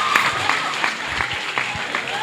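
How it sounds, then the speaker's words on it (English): A crowd at an open bouldering competition cheers and claps for a climber, a dense near burst of applause and shouts lasting the whole moment. "And this cheering is for Kate, acquiring that zone hold"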